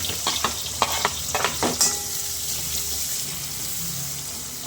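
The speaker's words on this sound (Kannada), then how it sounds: "ಇವಾಗ ಹೆಚ್ಕೊಂಡಿರೋ ಅಂಥ ಈರುಳ್ಳಿನೂ ಒಣಮೆಣಸಿನ್ಕಾಯಿ ಹಾಕೋತೀನಿ." Chopped onions and dried red chillies hit a hot pan for a restaurant-style kadai veg, a burst of sizzling and clattering stirs that settles into a steady, even frying hiss.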